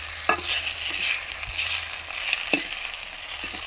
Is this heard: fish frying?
yes